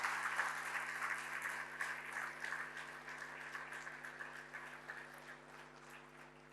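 Audience applause at a Republic Day poetry gathering (kavi sammelan and mushaira) in India, a faint, distant wash of clapping over a steady electrical hum, gradually fading over several seconds.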